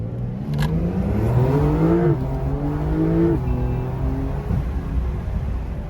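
A Porsche 911 Carrera GTS engine revs up loudly through successive gear shifts, pitch climbing then dropping at each change, heard close and continuous.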